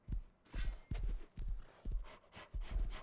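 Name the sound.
horse galloping in the video game Rust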